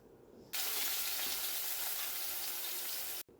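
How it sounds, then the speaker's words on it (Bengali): Panch phoron spice seeds drop into hot oil and burst into a sudden loud, close sizzle that holds steady for about three seconds before it stops abruptly. "তেলের মধ্যে পাঁচ ফোড়ন দিলাম"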